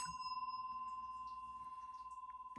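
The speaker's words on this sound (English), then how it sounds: "I'm going to go ahead and ring the bell for additional good juju." A small bell is struck once at the start of a tarot reading and rings as a steady, sustained tone, slowly decaying over a couple of seconds, with a second light strike near the end.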